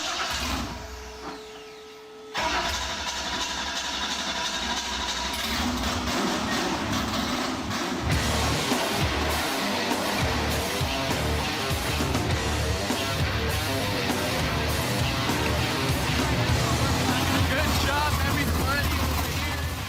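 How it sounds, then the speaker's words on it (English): Racing car engine with about 500 horsepower held at quarter throttle in neutral on its first test, a dense, steady roar starting abruptly after a brief quiet lead-in and continuing loud and unbroken, with voices underneath. "Engine's alive."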